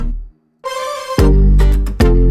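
A tropical-style guitar part in a pop track plays bright plucked notes, with a short gap, then fuller strummed chords over a deep bass, loud and close.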